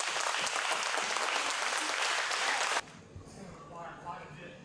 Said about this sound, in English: Round of applause, Brandon McCaghren.